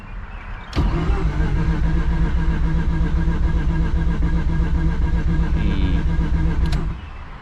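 A Mazda RX-7 FD3S rotary engine with a Walbro 440 fuel pump catches with a sharp start, runs loudly and steadily for about six seconds close by, then cuts out abruptly.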